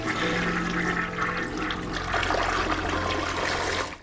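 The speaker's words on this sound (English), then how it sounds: "flush the toilet" A toilet flushes in the video game Deus Ex: Mankind Divided, a loud, close rush of water that swirls and trickles for four seconds over a low, steady background hum.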